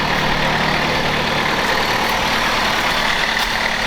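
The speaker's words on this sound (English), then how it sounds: "The engine purrs." Engine of a used car idling, heard as a steady, continuous rumble that stays even throughout without any revving.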